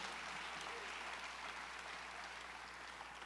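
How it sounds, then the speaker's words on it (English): A large audience at an education awards ceremony applauds the school board, a steady, even wash of clapping that stays faint and distant for the full length, with no voices over it. "Let's give our school board a big round of applause."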